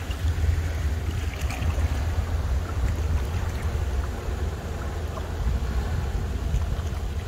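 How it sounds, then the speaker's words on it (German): Wind gusts across a lake from a fishing boat on an autumn trip, a steady low rumble of buffeting air on the microphone with faint water noise mixed in, continuous and fairly loud throughout. "Super Wetter, etwas Wind."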